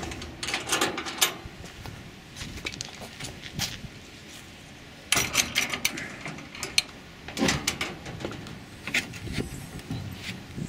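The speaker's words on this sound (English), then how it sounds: "Just pop that open." A trailer top's latches are popped open, giving sharp metallic clicks and clunks in scattered bursts, close by, with rattling mechanism sounds between them and no talk.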